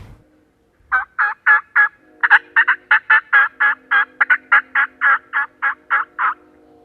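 A rapid series of evenly spaced wild turkey hen yelping calls at a field edge during a turkey hunt, about twenty clucky notes in a steady rhythm, clear and close with no other sounds.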